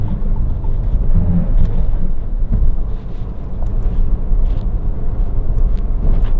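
Interior road noise from a Fiat Egea Cross 1.0 FireFly Turbo driving over a bumpy surface on winter tyres, a loud, steady low rumble of tyres and engine with light wind buffeting throughout.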